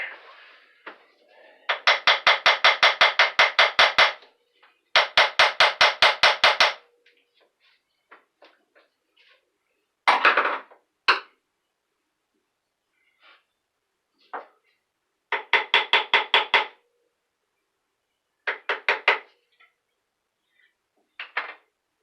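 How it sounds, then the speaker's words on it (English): Bursts of rapid, ringing metallic taps from a small light hammer on a 1989 Catalina yacht's Universal engine during teardown, several quick strikes per burst, close up, with pauses and a few isolated knocks between. "Get my little light hammer here."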